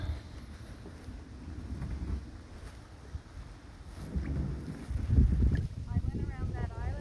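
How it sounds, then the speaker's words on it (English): Wind buffets the microphone while kayaking on a lake, with low rumbling gusts and water movement that swell louder toward the end, alongside faint background sounds. "I feel it's getting windier."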